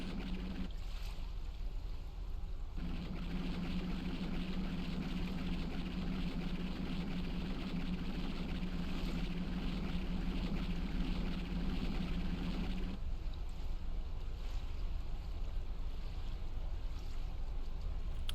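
A bulk carrier ship's engine in the NAUTIC XP simulator runs as a steady, even rumble with a low hum that swells for several seconds, then drops back to a broad, constant drone.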